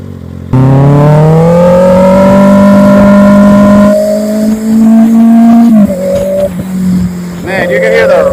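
Kawasaki ZX-6R motorcycle engine running rough: a loud, close, sustained engine whine holds a steady pitch for several seconds, then drops and wavers unevenly, with a brief rev near the end.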